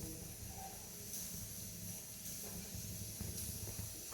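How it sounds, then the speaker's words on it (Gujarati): Mustard seeds crackle and sizzle in hot oil for a tempering, a faint continuous hiss with scattered small pops, quiet and close. "હવે રાઈને થોડી કકડવા દેવાની છે।"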